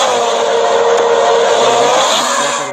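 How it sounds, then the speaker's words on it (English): Race cars roar past at high speed, a loud continuous engine whine that holds steady and fades slightly at the end. "A number of cars rush past"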